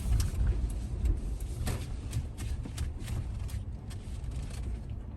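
Interior road noise from a 2013 Toyota Tacoma pickup as it turns and brakes, a steady low rumble with faint clicks and rattles and no talking.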